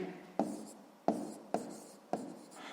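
Pen writing a sixth-grade math answer on paper: four distinct strokes, each beginning with a crisp tap and trailing into scratchy scribbling, close and clear with no talking.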